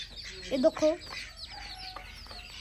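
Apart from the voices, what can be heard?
chickens clucking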